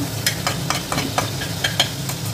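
Two cinnamon sticks and a bay leaf dropped into hot oil for a prawn biryani, sizzling softly while a spoon stirs them, giving a quick series of scraping clicks over the frying hiss.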